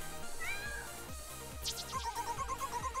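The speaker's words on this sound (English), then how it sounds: "This is the same cat from earlier." Cat meowing in the video game Mad Rat Dead, a couple of short meows mixed into loud pulsing rhythmic game music with a steady beat.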